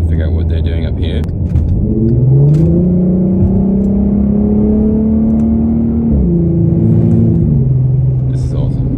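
A car with a tuned exhaust fitted with J-pipe resonators hums and rises in pitch as it accelerates, its deep exhaust note droning steadily up close with faint clicks.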